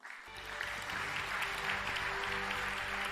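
Audience applause at the Pégases 2023 awards ceremony, rising quickly from silence into a dense sustained wash of clapping from a large crowd, steady and fairly distant.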